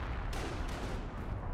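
Tank cannon fire in the strategy video game Company of Heroes: a dense, roaring wash of battle noise with a couple of sharp blasts punching through, fairly loud and steady with no talk.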